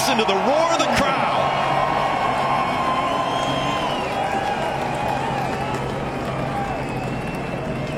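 Loud, sustained roar from a NASCAR race crowd, cheering and whoops swelling early then holding as a dense wash, with a commentator's voice layered on top.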